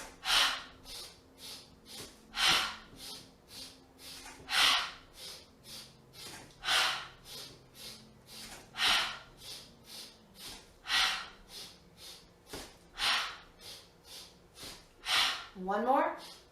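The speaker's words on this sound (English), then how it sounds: "So exhale all the breath out" Forceful yoga breathing, a series of strong rhythmic nasal inhales and sharp exhales, about one every second or so, close and loud, with a brief voiced sigh near the end.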